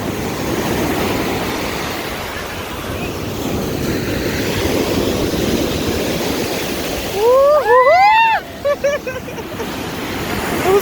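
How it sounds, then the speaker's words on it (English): Big ocean waves pound and wash continuously at Far Rockaway Beach, a loud broad roar of surf close by, briefly overlapped near the end by a person's high, warbling vocalizing. "You gotta see the waves."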